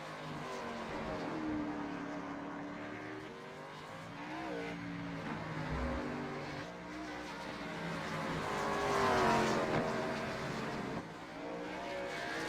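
A stock race car in the iRacing simulator laps the Charlotte Roval, its engine droning and shifting pitch steadily as it revs through gears, rising to a louder peak near the end, fairly quiet overall.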